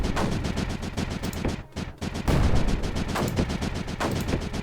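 Mortar and weapon fire in the video game Creeper World 4, a rapid barrage of sharp blasts and booms with a brief lull before the rhythmic firing resumes, loud and continuous.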